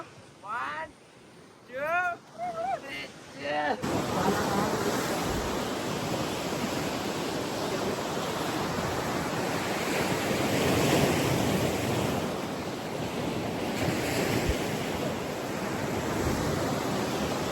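Ocean surf washing onto the beach at Pondicherry, a steady broadband roar of breaking waves with wind buffeting the microphone, preceded by a few seconds of people talking before the surf sound takes over.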